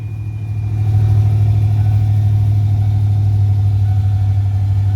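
A Ford F150 pickup engine, just restarted after fuel system priming following a fuel tank replacement, idles with a loud, steady low rumble that builds in the first second and then holds evenly.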